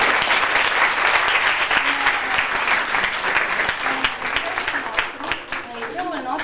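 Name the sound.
audience applause in a school hall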